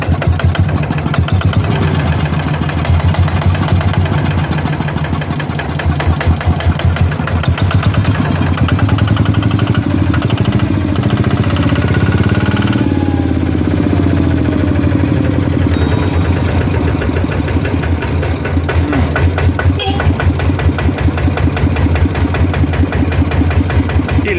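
A new ZT140 engine on a Thai Eetan farm vehicle runs steadily at close range, a loud, rhythmic mechanical chugging that continues without pause throughout.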